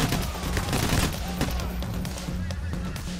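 Dense gunfire in Payday The Heist, steady rapid shots mixed into noisy action, with someone talking throughout.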